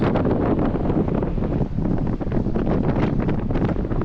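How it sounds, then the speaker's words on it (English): Strong wind buffets the microphone atop the Cape Otway Lighthouse in a constant, loud roar that swells and dips slightly, with no other sounds standing out. "A bit gusty up here. Just a bit windy."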